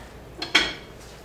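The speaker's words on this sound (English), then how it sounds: "I'll give it a quick little stir with my spatula" Lemon loaf cake batter with lemon zest is stirred in a bowl with a spatula, giving two brief, close scraping knocks against the bowl and then quiet.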